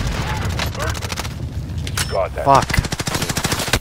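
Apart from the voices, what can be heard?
gunfire in the video game Warzone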